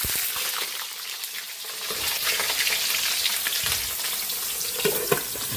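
Lechon kawali pork belly frying in a pan, a loud, continuous crackling sizzle with bursts of spattering oil, close and with no voices.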